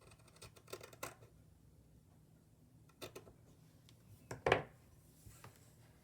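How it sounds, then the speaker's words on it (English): Fabric being cut with scissors: several quiet snipping and crunching cuts at irregular intervals, with one sharper, louder snip near the end against a faint background hum. "I'm going to use these other scissors"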